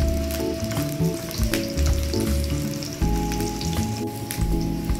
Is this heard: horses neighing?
no